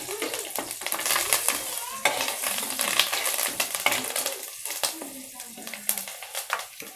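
A pinch of asafoetida and a quarter teaspoon of turmeric sizzle in hot oil in a pan, with steady frying crackle and occasional stirring clinks of a utensil, fairly close and moderately quiet.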